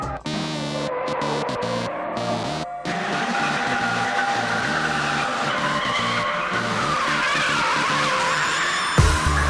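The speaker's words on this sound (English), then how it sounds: "I listen to the squealing sound of tires" Car tires squeal hard while drifting on a Tokyo drift set, a loud, sustained shriek that rises and wavers over a revving engine, with brief breaks early on.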